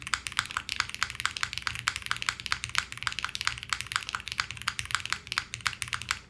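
Rapid typing on a Matrix MRTAXI mechanical keyboard with foam inside, close and steady, with a heavy, somewhat loud spacebar thudding among the quick clacks of the keys.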